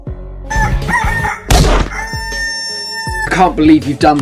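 A rooster crows loudly and close, with squawking, clucking calls before and after and a sharp burst of commotion partway through.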